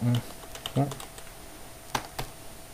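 Keys tapped on a computer keyboard during JavaScript coding, a few sparse, crisp clicks spaced apart, with brief bits of a voice at the start.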